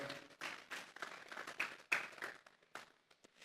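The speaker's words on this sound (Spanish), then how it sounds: "Dele esa ofrenda de palmas a Dios en esta hora" Congregation at a Sunday church service clapping in a loose, scattered burst of handclaps, fairly faint and uneven, fading after a few seconds.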